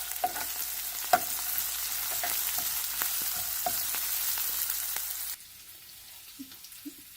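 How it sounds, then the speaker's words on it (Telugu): Onions, green chilies, curry leaves and fenugreek greens frying in oil for a ridge gourd tomato curry, a close sizzle broken by repeated spoon scrapes and taps, cutting off abruptly to near quiet. "తరిగి పెట్టుకున్న పచ్చిమిర్చి, కరివేపాకు మరియు మెంతం కూర వేసి కలుపుకోవాలి"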